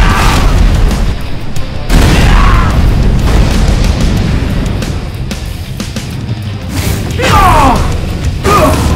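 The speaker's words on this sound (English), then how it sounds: "Target acquired! Repulsor blast!" Repulsor blasts from Iron Man in a Marvel video game, loud booming bursts with crackling energy, several strong hits arriving in quick succession, one near the start and another near the end.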